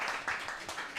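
A brief moment of steady audience applause at a student discussion about the 2024 election, even and moderately distant.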